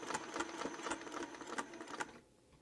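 A sewing machine stitches a quarter-circle curve across a quilted table topper, its rapid mechanical clatter pulsing steadily in short bursts before cutting off near the end, fairly quiet and alone.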